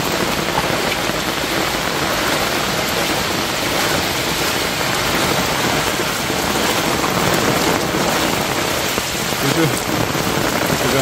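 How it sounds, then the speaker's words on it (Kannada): Heavy rain pouring down amid flooded roads, a loud, dense, continuous hiss of drops drumming on surfaces with no break. "ಜೋರು ಮಳೆ ಬರ್ತಾ ಉಂಟು."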